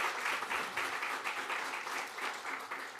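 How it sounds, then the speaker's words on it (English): Audience at a startup funding event applauds organizers, sponsors and volunteers, a soft, somewhat distant round of rhythmic clapping that holds steady across the moment. "please join me in applause again for their dedication"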